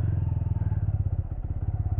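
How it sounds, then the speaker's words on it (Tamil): A motorcycle engine runs with a steady, close-up low thumping pulse, recorded from a helmet-mounted setup as the bike gets moving, heard alone without talk. "நான் இப்போ வந்து பைக்கை வந்து நான் மூவ் பண்ணுறேன்"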